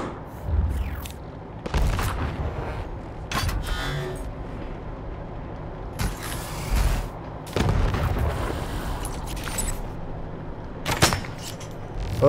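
Sniper rifle shots and explosions in the video game Wasteland 3 come as several sharp, loud reports spaced a few seconds apart, each with a rumbling tail, over low game ambience.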